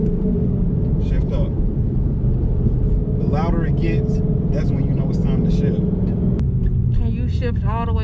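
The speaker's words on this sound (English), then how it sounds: "You just listen to the car. Sounds like it's struggling." An automatic car's engine drones in a low, laboring rumble throughout, straining in low gear, steady and close, while people talk over it.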